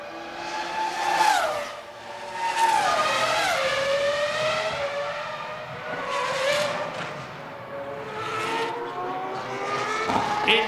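Formula 1 cars race at the 2001 Canadian Grand Prix in Montreal. High-pitched engines rise and fall as they pass one after another, with gear changes and a steady roar from the circuit throughout.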